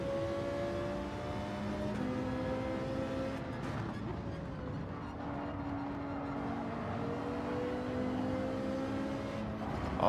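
BMW race car engine in Gran Turismo 7, running on hard tires during a time trial, droning steadily with shifting harmonic pitch as it accelerates and eases, continuous and close with no talk.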